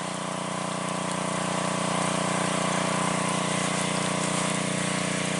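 A generator drones steadily while running a homemade trash pump that drains swampy water, a loud constant engine hum with a watery rush beneath it and no gaps.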